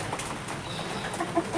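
Backyard chickens, including a Silkie hen, give a few short, soft clucks near the end over a low background rustle.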